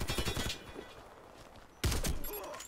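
Rapid bursts of gunfire in the video game Warface with sharp repeated shots, a quieter lull, then another loud volley close by.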